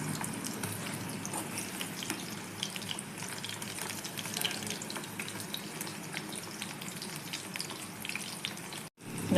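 Soya chunks deep-fry in hot oil for soya 65, a steady, dense bubbling sizzle with small crackles, heard at close range with no talk.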